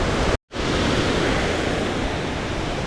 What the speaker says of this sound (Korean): 또 가는 길에 폭포가 하나 또 나왔는데